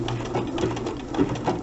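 A sewing machine stitching a basic buttonhole stitch on machine applique, heard as a short run of rapid, even mechanical stitching pulses at moderate, close volume.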